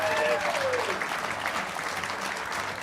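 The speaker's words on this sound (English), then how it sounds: "Give a nice round of applause, please, and you at home too, Craig Thatcher and Dick Boak." A studio audience at a live guitar pledge broadcast claps steadily and fairly loudly throughout, with a brief whistle-like glide near the start.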